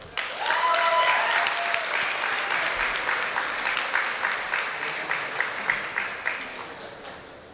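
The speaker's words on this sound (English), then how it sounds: "can we give them a round of applause?" Applause from an audience at a diversity celebration, a loud burst of clapping that gradually thins and fades over several seconds.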